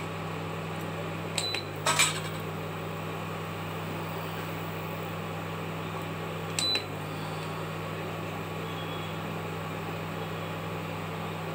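A metal lid goes onto a cooking pot of noodle soup with a couple of quick clinks close together, then one more short rattle a few seconds later, over a steady low hum.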